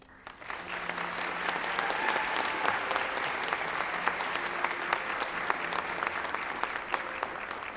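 Sustained audience applause at a school district awards ceremony honouring bilingual teachers of the year, steady dense clapping filling the room throughout with a faint voice underneath.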